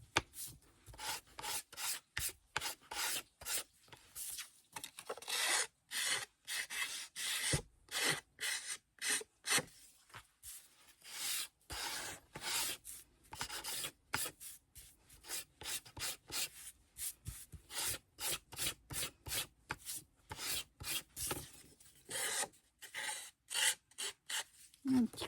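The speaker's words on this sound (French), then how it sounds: "on va venir déjà limer un petit peu tous ces petits minons que l'on a ici" A hand file rasps around the edges of a scrapbook hanger, trimming small rough bits in quick, irregular back-and-forth strokes, close and fairly quiet, with brief pauses between bursts.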